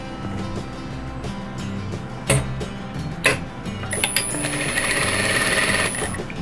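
A sewing machine stitches quilt strips, a fast steady mechanical whir with a couple of sharp clunks and a thin high whine joining in the second half, close and alone.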